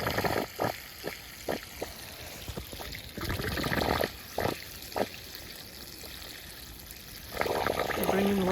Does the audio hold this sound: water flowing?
yes